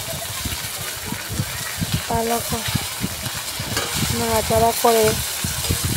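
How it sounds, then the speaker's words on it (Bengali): Fish fry in a pan on a gas stove with a steady sizzle and frequent scraping stir strokes, while a voice speaks intermittently over the cooking. "ভালোভাবে ভাজতে হবে মাছগুলো, গ্যাসের আঁচ কমিয়ে"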